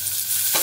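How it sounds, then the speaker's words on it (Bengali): Chopped mango hits hot oil already tempered with five-spice seeds, giving a brief burst of hissing sizzle with a soft stirring scrape, heard close and alone. "এবারে দিয়ে দেবো আম কুচি।"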